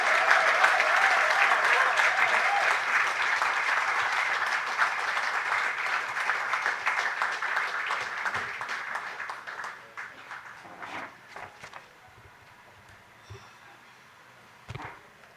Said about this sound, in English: another round of applause for all of our awardees this afternoon